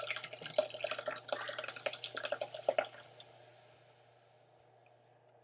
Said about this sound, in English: Let's pour this. Let's mix it up a little bit.